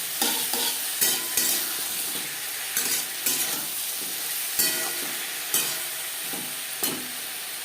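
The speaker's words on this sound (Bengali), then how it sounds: "তিন চার মিনিট বেগুন ভেজে নেওয়ার পর দিয়ে দেব এক চামচ আদা ও কাঁচা লঙ্কার পেস্ট" Eggplant fried in oil with ginger and green chili paste makes a constant, close sizzle, broken every second or so by sharp scraping strokes from stirring.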